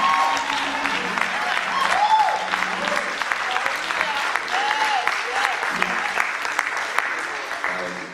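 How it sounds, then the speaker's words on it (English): A church congregation claps at a Sunday service, a dense, sustained round of applause lasting several seconds, with faint tonal music and voices murmuring underneath. "I would like for you to clap your hands a little better."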